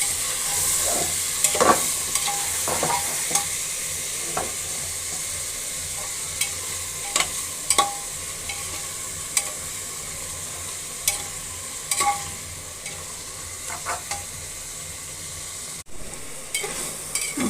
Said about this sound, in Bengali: যে বটটা দিয়ে দিলাম, আর বটটা কষিয়ে নেব।